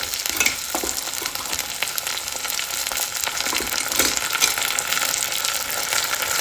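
Ginger and green chilli paste frying in a pan gives a steady, loud sizzle with crackling, while faint scraping and stirring sounds run through it the whole time.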